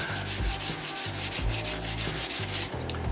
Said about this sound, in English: I'm just going to sand this stuff here until it all smooths out